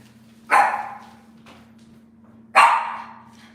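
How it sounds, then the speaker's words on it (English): A dog barks twice nearby, about two seconds apart, with a faint electrical hum underneath and quiet in between. "What are you barking at?"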